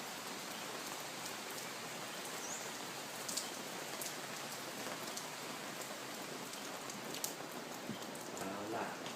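Rain falls on a tent set up at a riverside spot with views toward Myanmar and Laos, a soft, steady patter with scattered louder drops tapping close by, fairly quiet throughout and no voices.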